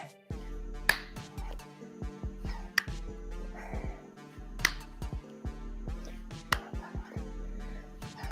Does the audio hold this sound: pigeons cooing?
no